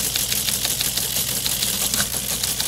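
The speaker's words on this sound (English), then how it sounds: "Yeah, I think it's actually technically known as a teletype machine. It made a very distinctive sound" A teletype machine runs continuously, giving a steady, busy mechanical clatter of rapid typewriter-like strikes that stays loud and even throughout, with no voices.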